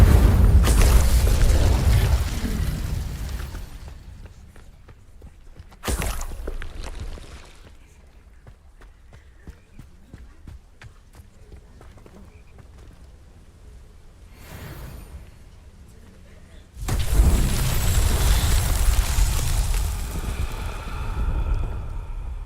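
An Incendio fire spell cast in Hogwarts Legacy: loud whooshing bursts of flame with booming, crackling tails, separated by quieter stretches, no speech.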